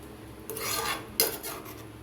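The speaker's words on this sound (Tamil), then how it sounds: "தண்ணி ஊற்றி நல்லா கலக்கி நல்லா இது கொதித்து" A spoon scrapes and stirs coconut gravy with water in a cooking pot, two short rasping strokes, close and moderately loud, with no talking.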